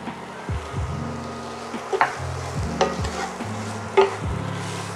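Onions cooking in a pan over medium-low heat for a gourmet grilled cheese give off a steady, close sizzle, broken by a few sharper scrapes of stirring.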